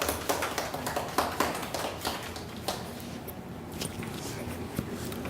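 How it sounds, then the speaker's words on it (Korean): Applause from an audience welcoming a guest speaker, an LG Electronics researcher, at a career-dream event: scattered, fairly thin hand claps spread across the room, steady and moderately distant, with no talking over them. "박수로 맞아주세요."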